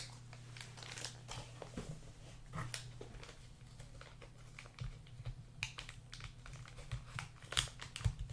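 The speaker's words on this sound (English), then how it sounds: "Let's open up the AVS-4000 first." Packaging of an AVS-4000 software defined radio being opened and handled, with irregular crinkling, tapping and rustling bursts close by over a steady low hum, no voices.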